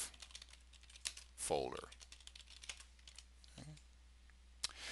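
A computer keyboard clicks in quick, light bursts as a task name is typed, quiet and close, while a person talks briefly over the keys.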